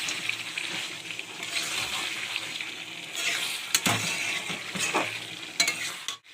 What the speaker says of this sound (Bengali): আলুগুলো দিয়ে আর কিছুক্ষণ আমি সেটাকে নেড়ে ছেড়ে তারপরে জল দেবো।